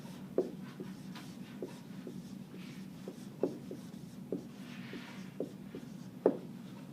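Hand writing in a science notebook, a steady soft scratching of pen or pencil on paper with small periodic taps, close and quiet, with no talking.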